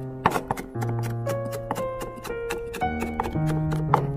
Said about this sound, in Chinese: 准备4瓣大蒜，先切片，再改刀切成蒜末